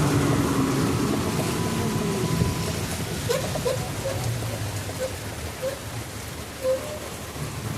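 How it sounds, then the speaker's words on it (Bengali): Heavy rain pours in a steady dense hiss, with scattered drips and splashes standing out, and no one speaks. "দেখো কত বৃষ্টি হচ্ছে এখানে"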